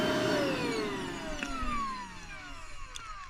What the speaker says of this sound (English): Yeah, a vacuum cleaner is very weak.